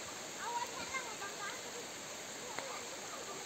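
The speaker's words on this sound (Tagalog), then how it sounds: "Ang lakas na ng agos ng ilog, oh." A rising river with a strong current gives a steady, even rush of water, constant and moderately distant, with a few faint sounds over it.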